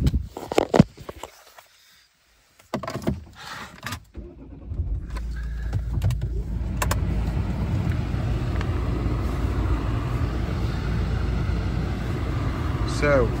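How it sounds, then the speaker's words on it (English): Keys jangle and the cabin goes quiet before the car's engine cranks, catches and settles into a steady, close idle that continues under a voice. "we'll start the car up"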